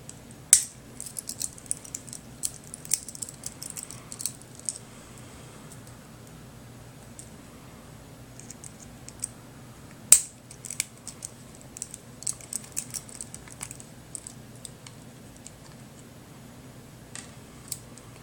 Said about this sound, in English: you have to take out all 4 screws